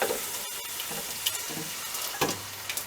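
Yellow dal stirred into a sizzling masala in a pan, with scraping spoon strokes and a steady crackle; a few sharper clatters land near the middle and end of the stretch.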